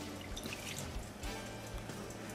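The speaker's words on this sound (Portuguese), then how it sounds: "Vamos colocar 1 xícara de vinho tinto." Red wine poured onto roasting meat with diced onion in a pan, a continuous soft liquid trickle and sizzle running steadily under faint background noise.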